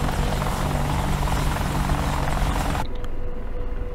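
An AH-64D Apache helicopter in the DCS World flight simulator roars with a loud, steady rotor and turbine drone that cuts abruptly partway through to a quieter cockpit hum.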